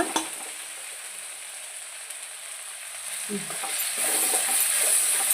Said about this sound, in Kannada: ಸ್ವಲ್ಪ ಅರಿಶಿನ ಹ್ಯಾಡ್ ಮಾಡಿ ಈ ಥರ ಫ್ರೈ ಮಾಡೋಣ